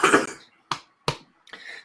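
Four short, sharp bronchitis coughs close by, the first longer and rougher, followed by three quick separate bursts with brief silences between.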